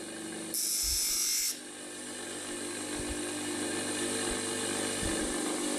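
A power grinder removing a bulge of steel from a Mors Kochanski knife blade; a harsh, high-pitched grinding burst of about a second close up, then a steady motor hum.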